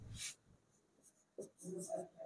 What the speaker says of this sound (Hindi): अब जल्दी से लिखेंगे